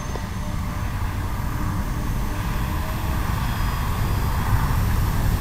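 An E-flite Beechcraft D-18 RC airplane flies slowly past with gear and flaps up, giving a steady, moderately faint motor drone against outdoor background noise.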